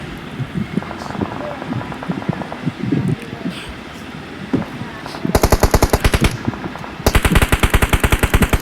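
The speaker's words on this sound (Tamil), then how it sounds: "உங்களுக்கெல்லாம் எங்க M4 அடிக்குது" M4 rifle fire in the PUBG game on the Livik map: two long, rapid full-auto bursts ring out loud and close after quieter in-game ambience and scattered sounds.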